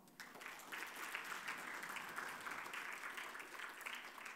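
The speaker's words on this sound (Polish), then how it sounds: "Ogromne brawa." Applause from an audience at a thank-you ceremony for VIP supporters, a quiet, distant, steady patter of clapping that starts abruptly and holds evenly throughout.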